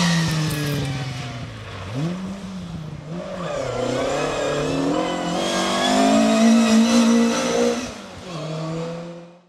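A Lotus Cortina rally car running in an R.A.C Category 1 stage rally in Mid Wales, its engine loud and close, revving and dropping through gear changes and then climbing hard in a sustained roar.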